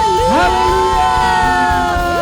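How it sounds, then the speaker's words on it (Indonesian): A church congregation at Sunday worship cheers and calls out hallelujah, a loud, sustained crowd of raised voices with long sung tones holding steady across two seconds. "Berikan sorak-sorai yang terbaik buat Tuhan kita"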